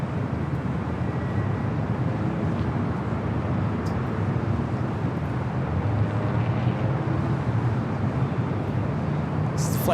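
An airliner arriving from Portland lands at LAX, heard as a steady broadband jet rumble and roar that holds evenly across the whole stretch, distant-to-moderate in level with no clear talk.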